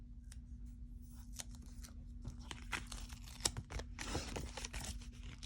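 Scissors cutting planner paper, a quiet series of crisp snips and rustles spread steadily across the clip, with soft paper handling noises in between.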